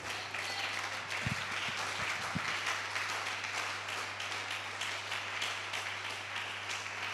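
A church congregation applauds at a service, a brief burst of hand claps over a steady background wash, fairly faint and distant.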